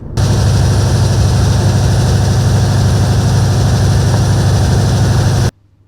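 A biogas-fuelled cogeneration engine at a prison biogas plant that turns gas from manure into electricity runs loud and steady with a deep, even drone, then cuts off abruptly just before the end.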